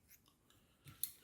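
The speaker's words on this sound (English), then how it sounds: "Snip that off." Scissors give a quick, faint snip at close range while trimming material on a fly-tying popper hopper, a single short cut after a moment of quiet rustling.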